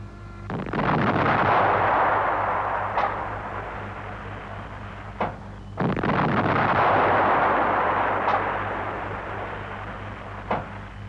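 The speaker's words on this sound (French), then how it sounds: "le canon de 105 tire le projectile à charge creuse T-59 à vitesse initiale de 800 mètres secondes" An AMX-13 tank's 105 mm cannon fires twice, each shot a loud booming blast that rolls out into a long reverberant rumble, with sharp clicks between.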